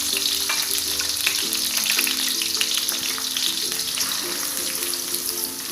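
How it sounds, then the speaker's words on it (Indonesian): Shallots sizzle and crackle steadily in a hot pan for a stir-fry of oncom and leunca with shrimp and petai, with occasional stirring scrapes close by and no talking. "terus diaduk-aduk sampai matang dan kuning kecoklatan ya."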